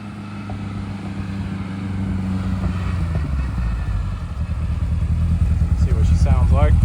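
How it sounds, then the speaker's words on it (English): A 1977 Ford Escort MK2 RS2000 with a 2.0L Pinto engine and tuned carburettor, idling as a low steady exhaust burble that swells and grows rougher and louder toward the end as revs rise. "See if we get a little exhaust note for you."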